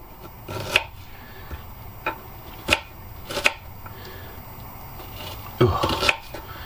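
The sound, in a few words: chopping onions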